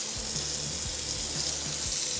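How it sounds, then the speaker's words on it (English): Tap water runs steadily over Demko AD20.5 knife parts held under the stream, a continuous close hiss and splatter with faint low thumps as the pieces are moved, no talking. "I'm going to pull these out and rinse them off"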